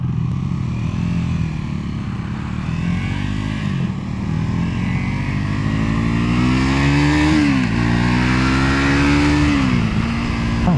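A Triumph Scrambler 400X motorcycle engine accelerates through the gears, its loud, close drone rising in pitch, dipping briefly at shifts and climbing again, with steady wind noise underneath.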